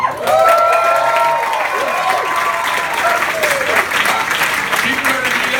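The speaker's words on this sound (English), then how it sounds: "Start clapping." Audience at a comedy club show bursts into loud, sustained clapping with cheers and whoops, a dense close wall of applause that holds steady for several seconds while voices shout over it.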